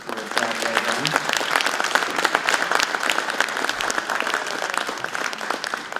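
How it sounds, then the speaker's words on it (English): An audience in a hall applauding election candidates after a public meet-the-candidates forum, a sustained, dense wave of clapping at close range, with a few faint voices mixed in. "Let's give these fine candidates another round of applause for a job well done."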